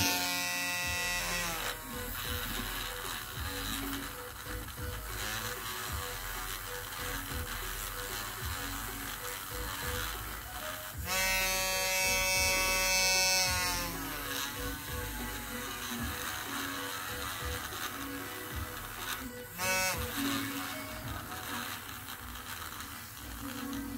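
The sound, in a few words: wire brush scraping a bonsai trunk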